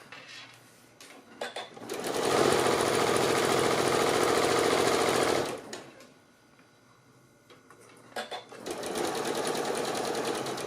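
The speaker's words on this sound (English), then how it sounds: "Just stitch down to your end and then back tack." A sewing machine stitches a tie for a pleated fabric face mask, two sustained whirring runs of rapid needle clatter separated by a quiet pause, close and loud.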